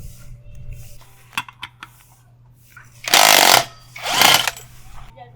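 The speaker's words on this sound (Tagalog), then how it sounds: "Baklasin ko muna pala tong torque drive" Tools work to remove the CVT torque drive from a Suzuki Burgman scooter, with scattered light metal clicks and taps over a low hum, followed by two loud close bursts of rattling impact-wrench buzzing.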